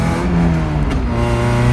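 A car exhaust with a large leak after the test pipe rumbles loudly and steadily close by while driving, with a rough, popping character.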